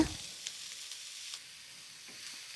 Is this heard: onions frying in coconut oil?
yes